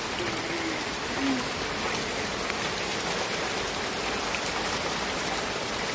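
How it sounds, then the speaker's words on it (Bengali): Steady rain patters down in an even, continuous hiss, with no voices or other sounds standing out. "আজকে আপনাকে একটা বৃষ্টির ভিডিও পাঠিয়ে দেবো"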